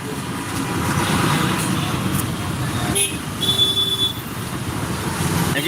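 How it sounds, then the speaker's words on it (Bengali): Slow road traffic crawls near the Mohakhali rail gate in Dhaka, forming a dense, continuous rumble of engines. A brief horn toot rises above it partway through. "এই রাস্তায় গাড়িগুলো খুবই ধীর চলছে"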